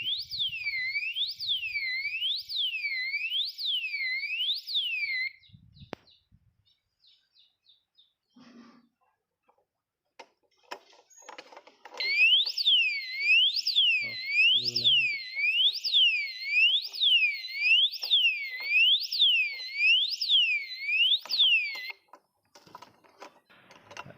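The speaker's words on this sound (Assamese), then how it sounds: "এলাৰ্মখন বাজি উঠিল" A motorcycle disc brake lock alarm wails in two bursts: a loud electronic siren sweeping up and down rhythmically, a pause filled with quiet clicks and handling noise, then the piercing sweeping siren again for about ten seconds before cutting off.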